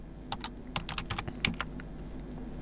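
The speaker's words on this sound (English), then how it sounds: "you can press tab on your keyboard" Fingers tap on a computer keyboard, a quick run of a dozen or so crisp clicks with uneven rhythm, close and clear, ending with a louder key press.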